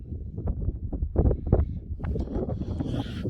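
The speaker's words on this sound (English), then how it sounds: "It's windy out here today." Gusts of wind buffet the microphone in uneven rumbling bursts, with rustling texture and no voices.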